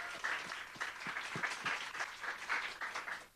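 An audience at a student team showcase claps in steady applause for the first five schools, a dense patter of many hands at moderate distance with no voices over it.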